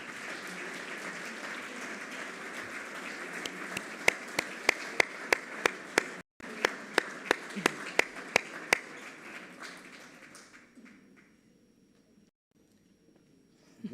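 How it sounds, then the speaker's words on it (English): Audience applause for film directors at an awards session of a film festival, broad steady clapping with sharp individual claps standing out, fading out toward the end. "An applause, please."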